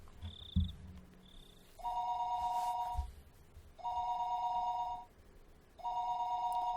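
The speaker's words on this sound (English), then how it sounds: "The phone suddenly rang." A telephone rings in the Higurashi visual novel game: three long electronic ring bursts repeat at steady intervals, following a couple of short high beeps and a soft thump, fairly clear with no talk.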